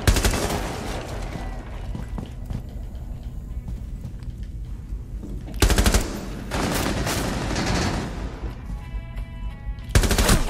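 Gunfire in Rainbow Six Siege, with sustained dense rapid bursts through most of the stretch and sharper, louder volleys breaking in near the middle and again at the end.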